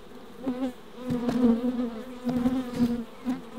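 Honeybees buzz inside a top bar hive built from an old fridge, a steady close droning hum that swells and dips as individual bees pass near, with no talking.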